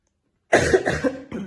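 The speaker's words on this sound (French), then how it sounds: "Je tousse beaucoup" A person coughs three times in quick succession, close and fairly loud, after a moment of silence.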